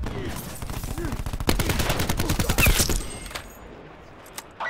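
Rapid automatic gunfire from a Call of Duty: Black Ops 4 match, loud, dense bursts of shots rattling for about three seconds before trailing off into quieter ambience.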